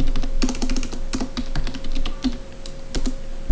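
Fingers tap out a quick burst on a computer keyboard, crisp close clicks in uneven bursts with short pauses, loud and alone with a faint hum underneath.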